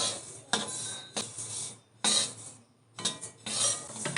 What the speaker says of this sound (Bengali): এইভাবে অনবরত নাড়তে হবে, নাহলে নিচেগুলো লাল হয়ে যাবে